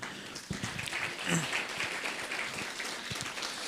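Applause in a church during a Sunday worship service: a sustained, dense patter of many hands clapping at steady loudness for several seconds, with faint voices mixed in.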